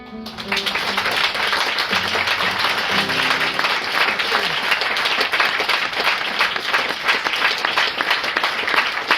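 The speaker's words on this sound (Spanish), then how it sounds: "le diera un aplauso fuerte a Cristo." Strong, sustained applause from a church congregation at a worship service, dense clapping filling the whole stretch at an even level, with a few faint voices low underneath.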